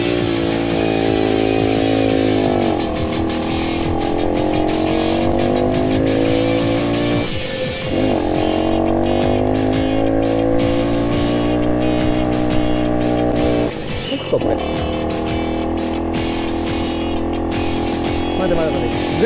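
A two-stroke motorcycle climbs a hill, its engine revving loud and close with rising pitch sweeps and brief drops at each gear change, whining steadily throughout.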